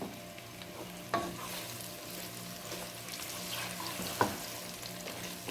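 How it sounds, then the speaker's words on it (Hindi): Sliced onions with garam masala fry in a pan for a minced meat and peas curry, a steady, fairly quiet sizzle with occasional spoon clinks and scrapes against the pan. "हल्का सा गोल्डन ब्राउन होने तक इनको फ्राई कर लेते हैं।"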